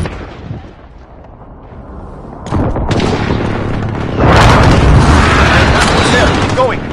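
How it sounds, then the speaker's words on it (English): Airstrike explosions in Call of Duty: Modern Warfare, with a quiet rumbling opening, then a sudden loud burst and a second, heavier wave of booming blasts that rolls on, with voices faintly underneath. "Allied precision airstrike incoming"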